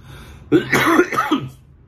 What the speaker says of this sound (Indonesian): Sorry, gue agak batuk